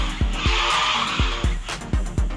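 Arcade race car drifting through a space station track in Garena Speed Drifters, a steady broadband tire-skid hiss over engine hum, punctuated by a series of regular thumping bumps about every half second.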